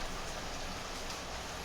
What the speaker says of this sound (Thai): ขออภัยนะครับตอนนี้มีเสียงฝนด้วย